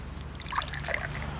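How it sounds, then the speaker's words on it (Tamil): Liquor trickling into a glass, a short uneven splashy pour heard close up over a low background hum, with no talking. "சரக்கு ஊத்துக்கா"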